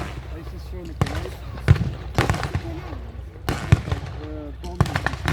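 Loud sharp blasts and bangs at a WW2 tank battle reenactment with grenades being thrown, several irregular reports mixed with distant pops, while people talk over them outdoors.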